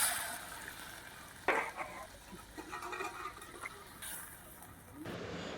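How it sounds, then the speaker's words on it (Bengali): Water poured into a pan of frying soybean muri ghonto gives a quiet hiss and splashing sizzle that starts suddenly and keeps bubbling, with a few soft clinks near the end. "এবার আমি স্বাদ অনুযায়ী পরিমাণ মতো জল দিচ্ছি"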